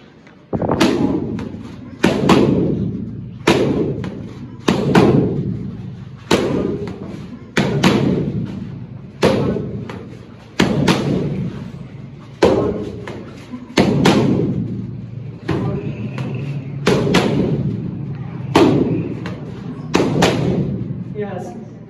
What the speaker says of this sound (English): We teach you how you hit jab, left sling, body shot, cross, hook.